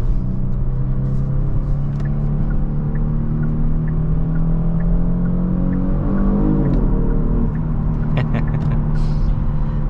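Steady low engine drone of a 2022 Genesis G70 rear-wheel-drive sedan heard from inside while driving, with a brief pitch sweep around a corner and faint voice-like sounds over the continuous cabin rumble.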